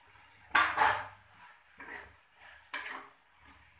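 Potatoes and capsicum being stirred in a cooking pan for a sabzi, with a few close utensil scrapes and clinks spaced irregularly over a faint background.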